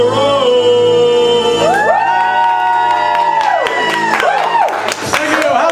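A studio audience at the comedy show On the Spot cheers, whoops and claps loudly to welcome the host, a dense sustained roar of many voices with scattered clapping, mixed with talk.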